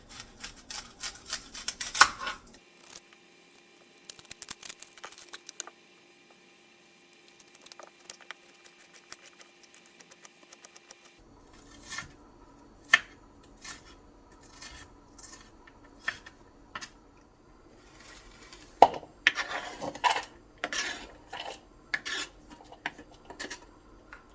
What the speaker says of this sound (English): I'll go ahead and chop up the onions